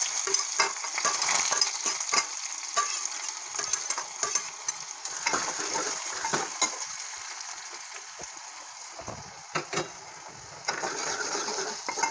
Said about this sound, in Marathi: कांदा छान फ्राय करून घेऊया आपण